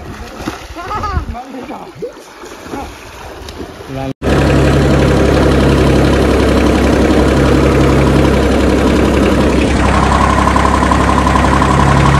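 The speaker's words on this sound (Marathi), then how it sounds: "लहानपणापासून स्वप्न होतं ट्रॅक्टर चालवायचं, ते आज पूर्ण झालंय" A loud, steady engine drone runs continuously after a brief quieter stretch with talking, a low rumbling idle typical of a tractor.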